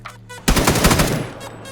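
In the battle royale game PUBG, a loud rapid burst of automatic rifle fire rattles out for nearly a second, sharp and close, after a few quieter shots, with no talk over it.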